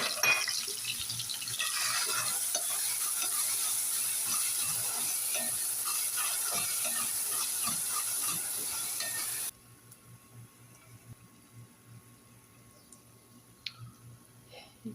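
Ingredients for khepsa, a Saudi rice dish, frying in hot oil, a dense steady sizzle with stirring clatter for several seconds, then cutting off abruptly to near quiet with a few faint knocks.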